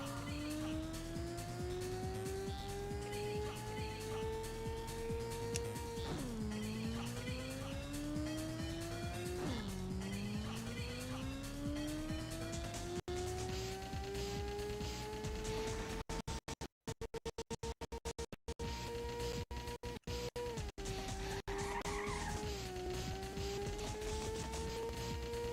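Race cars roar and skid in the video game Ridge Racer, with an engine pitch that climbs and drops at each gear change and repeated tire squeals through the corners, all loud and close.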